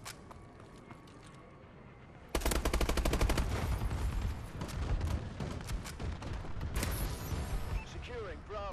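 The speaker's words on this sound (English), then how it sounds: "Friendly bombing run clearing the way." Airstrike bombing run in a military video game: a sudden loud burst of rapid automatic gunfire and explosions erupts after a quieter stretch and keeps rumbling on, with game voice callouts over it.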